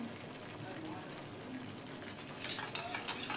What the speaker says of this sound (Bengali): মশলাটা একটু কষে নেব দেখুন মশলার থেকে তেল বেরিয়ে আসছে